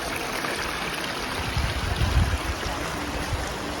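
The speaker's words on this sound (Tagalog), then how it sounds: "Dumadaan pa na tubig galing sa taas." Water rushing and trickling steadily downhill nearby at a typhoon landslide on the Nabua-Balatan road, a continuous burbling flow that swells briefly in the middle, with no talking.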